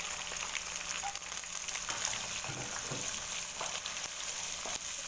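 Onions and chillies frying in a pan, a continuous crackling sizzle with occasional stirring scrapes and pops, steady and close.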